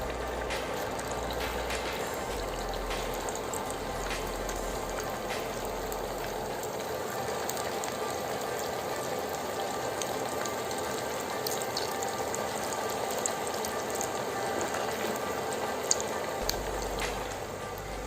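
Potato and semolina pakoras fry in hot oil, a steady soft bubbling and crackling hiss that stays even and fairly quiet throughout with no voices.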